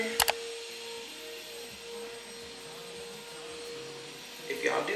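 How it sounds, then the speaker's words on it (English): A vacuum cleaner runs in another room, a faint, steady droning hum that continues for the whole stretch under quiet indoor background noise. "Hopefully y'all do not hear the vacuum cleaner."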